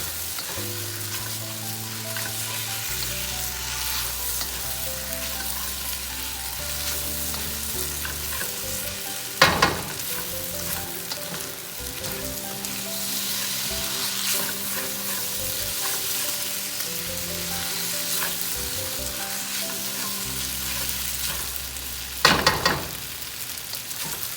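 Gulf shrimp sizzle and fry in a pan for pad thai, a steady loud crackle with stirring throughout and two sharp clanks of a utensil against the pan; no voices.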